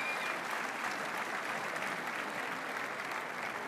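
A studio audience at the German Sunday TV show Immer wieder sonntags claps steadily, a dense and uniform burst of applause that lasts the whole moment.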